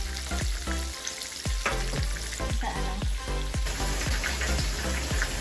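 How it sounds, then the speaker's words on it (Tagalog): Chicken strips fry in a hot pan with a dense, constant sizzle and crackle, while rhythmic scrapes and taps of stirring repeat close up. "Ipiprito na natin ang ating chicken."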